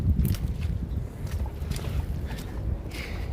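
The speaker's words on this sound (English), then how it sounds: "It is windy up on the mountain today." Gusty wind on a mountain during a winter storm buffeting the microphone, low rumbling bursts rising and falling throughout.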